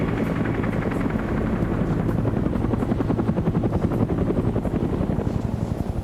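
A helicopter in a Vietnam War multiplayer shooter thunders loud and close, its rotor chopping in a fast steady throb that fills the whole stretch with no talk over it.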